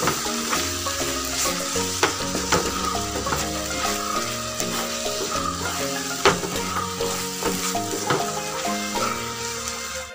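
Thickening tamarind candy masala is stirred in a pan on the stove. A spoon scrapes steadily with scattered knocks against the pan over a continuous soft sizzle, close up, and no one speaks.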